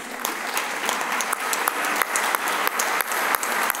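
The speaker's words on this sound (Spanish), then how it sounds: "Aplausos." An audience at a university aerospace engineering diploma ceremony breaks into lively applause, dense crowd clapping with distinct sharp claps standing out, continuous and fairly close.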